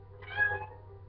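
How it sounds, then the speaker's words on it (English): A female house cat gives one short, fairly soft meow nearby in a quiet room at home during a makeup tutorial, with no talking over it. "By the way, if you hear meowing, that would be my cat."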